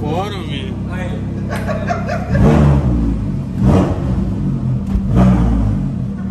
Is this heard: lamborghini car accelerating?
yes